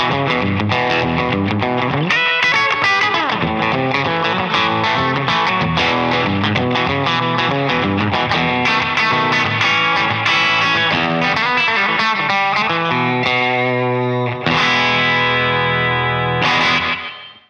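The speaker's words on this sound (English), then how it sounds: "something where it's obvious to hear a slapback delay" Electric guitar played through a short slapback tape delay, with each note followed by a quick echo; a lively, slightly distorted rockabilly-style line runs steadily and ends in a sustained chord that rings out.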